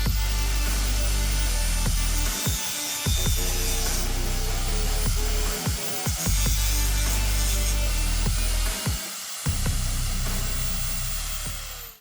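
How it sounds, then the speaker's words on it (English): A grinding head on a power tool cleans up the edges of a welded frame, a steady loud rasping grind with several brief dips and restarts as the tool comes off the metal. "We're gonna go ahead and swap heads to the grinding head and clean up these edges"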